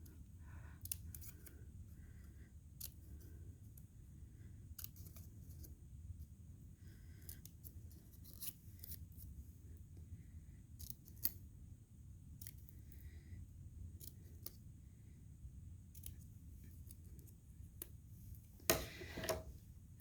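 Scissors cut through a sheet of folded paper, making a string of faint, crisp snips at irregular intervals over a low, steady room hum.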